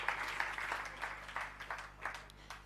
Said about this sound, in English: may we have another round of applause for Oma Katrina